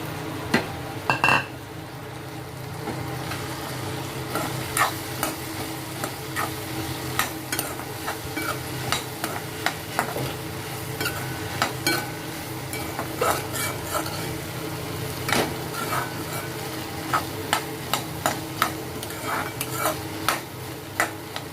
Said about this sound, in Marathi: त्याच्यामध्ये आपल्याला भेंडी टाकून द्यायची